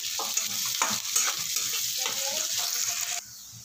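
Onions fry in a pan until browned, sizzling loudly and continuously at close range, with rhythmic stirring scrapes for about three seconds before the sizzle drops away abruptly.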